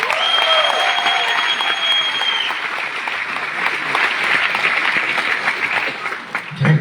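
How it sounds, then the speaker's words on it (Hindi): Audience applause at a business talk fills the room with steady, dense clapping, with a whistle-like tone over the first seconds and a few louder claps near the end. "थैंक यू सो मच तालियों के लिए"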